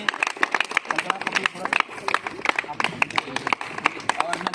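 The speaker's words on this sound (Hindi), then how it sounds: "तो राम बाबू सर के लिए ताली हो जाए एक बार" Audience clapping for Ram Babu at an AWPL achievement celebration, a steady patter of many hands close by under continuous talk from a man at a microphone.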